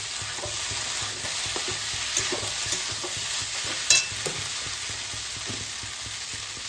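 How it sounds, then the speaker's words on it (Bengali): Onions fry in a pan under a constant, moderate sizzle, broken by soft scraping stirs and a sharper clink near the end, with no voices. "এটা একটু নাড়িয়ে নিই, তারপরে একটু নুন দেবো, মশলা দেবো, গোলমরিচ দেবো"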